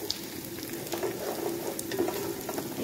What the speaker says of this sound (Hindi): प्याज को 2 से 3 मिनट तक हम फ्राई करेंगे